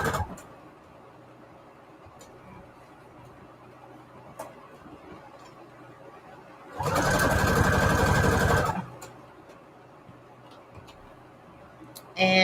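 A sewing machine stitching paper strips for prayer journal embellishments whirs in one loud, steady burst of about two seconds, framed by quiet ticking and handling sounds.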